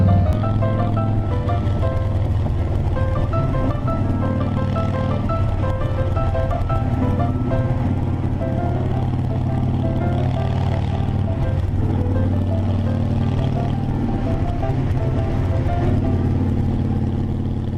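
Harley motorcycles cruise north on Highway 20 toward Deception Pass, a steady, loud engine drone with rumbling exhaust and rushing wind, the pitch shifting slightly as the riders hold speed.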